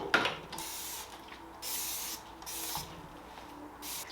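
Short hissing bursts of spray primer from a can onto knotty wood furniture, repeated several times with brief pauses between, close and fairly soft.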